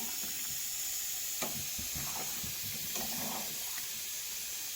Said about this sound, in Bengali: মাংসটা আমি রান্না করছি